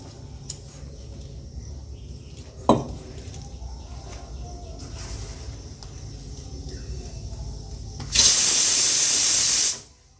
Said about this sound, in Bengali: ছোলার ডাল সিটি হচ্ছে